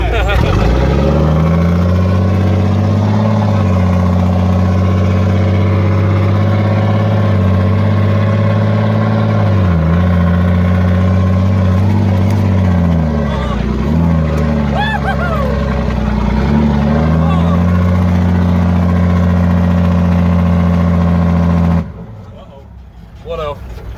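A 14-liter non-turbo M923 5-ton military truck engine running with an Allison 5-speed, a loud, steady low rumble with slight rises and dips in pitch, under occasional talk, cutting out near the end.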